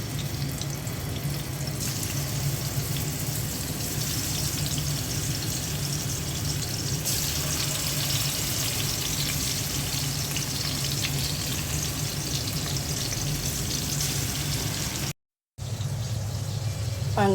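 Rui fish pieces coated in turmeric and chili fry in oil, a dense continuous crackling sizzle held steady and close for the whole stretch, broken only by a brief gap near the end.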